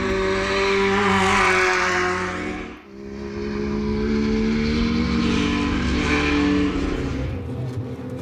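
A Porsche 911 or F1600 race car lapping a track, engine loud and close throughout with steady high revs, a brief dip near the three-second mark as it lifts off, then hard acceleration again.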